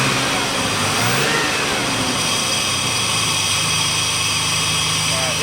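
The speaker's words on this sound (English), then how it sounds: "And then as we increase throttle," A Dodge Dakota engine revs as throttle increases, a loud continuous mid-pitched drone that rises in pitch, with a person talking over it.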